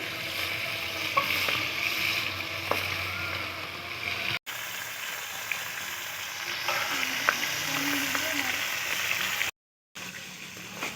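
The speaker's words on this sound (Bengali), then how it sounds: "গরম হয়ে গেছে মাথাটা ভেজে নেব" A rohu fish head frying in hot oil, a loud, close, continuous sizzle and bubbling, with occasional pops and two brief dropouts to silence.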